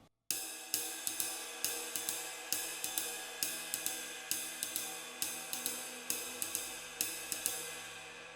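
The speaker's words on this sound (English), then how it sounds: "Most of us are already familiar with the jazz ride cymbal pattern" Jazz ride cymbal pattern on a drum kit, a steady swung stream of bright shimmering cymbal strokes with regular accented hits, close and clear, with no talking.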